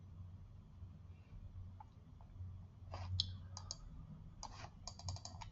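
Faint, quiet computer mouse clicks come in a few scattered single and double taps against a low room hum, with no talking.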